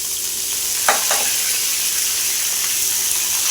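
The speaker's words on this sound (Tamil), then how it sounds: "இது போட்டு நல்லா வதக்கி விடணும்." Onions, curry leaves and dried chillies sauté in hot oil for a scarlet gourd fry, a steady close sizzle with a brief stirring scrape near the start and no talking.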